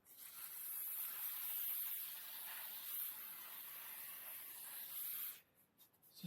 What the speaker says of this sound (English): use something like WD-40 to clean them off